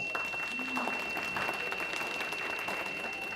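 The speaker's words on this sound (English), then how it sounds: "You deserve a round of applause." A round of applause from a school gym audience at a girls basketball signing day, honoring the media staff member; moderate, even clapping with a faint steady electronic tone underneath.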